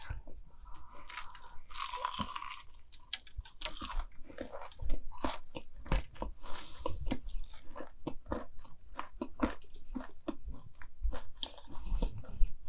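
Someone bites into and chews cheddar Takis Cheetos mac and cheese balls up close, with crisp crunches and wet chewing going on throughout.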